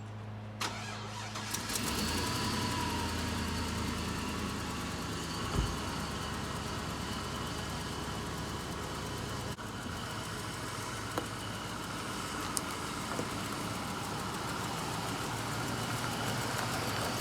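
A Chevrolet Silverado pickup with a 5.3 engine cranks and catches, then settles into a steady, loud idle that runs on without pause, with a few faint clicks and knocks over the rumble.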